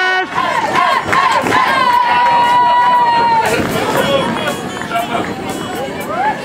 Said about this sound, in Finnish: No niin, ja raikuvat aplodit.